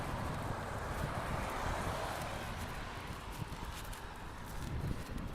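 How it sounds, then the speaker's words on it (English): Wind blows steadily across a downtown street corner on a grey day, a broad continuous rush with microphone buffeting that stays fairly even for the whole stretch. "There's a windy corner here."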